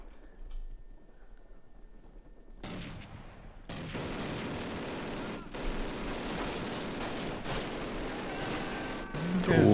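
Gunfire in a Call of Duty match, starting after a quiet opening and then a dense, continuous stream of rapid shots and bursts that grows louder toward the end.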